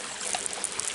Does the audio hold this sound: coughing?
no